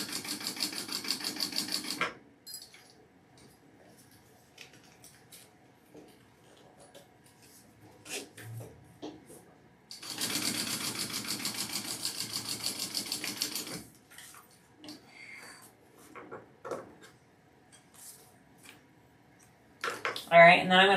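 A sewing machine stitches a Traveler Trifecta Med Bag in bursts: a short run at the start and a longer steady whir mid-way, separated by quiet handling noises, with a brief start again at the end.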